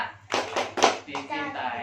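A group of adults clapping the Indonesian 'Tepuk anak' hand-clap rhythm, several sharp claps in a quick pattern with voices chanting along.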